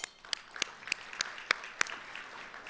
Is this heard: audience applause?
yes